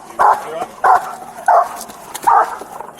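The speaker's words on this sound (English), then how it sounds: "or you're gonna be bit by a police dog" A police dog barks in four sharp, loud bursts spaced roughly half a second apart, close by during a tense armed confrontation with a suspect.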